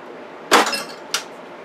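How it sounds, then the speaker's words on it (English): A wrench snugging a nut on a lamp fixture gives two short metallic clinks, the first louder with a brief ringing tail, the second quicker and lighter, alone in a quiet room. "I'm going to take a wrench and just tighten it snugly"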